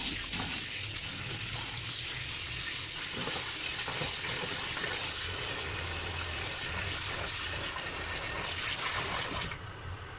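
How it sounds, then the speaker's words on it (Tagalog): Steady cold running water splashing into a sink while rinsing squid, a continuous broad hiss that stops abruptly near the end. "hugasan natin ng malamig na tubig"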